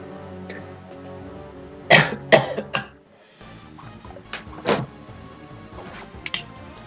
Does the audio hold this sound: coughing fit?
yes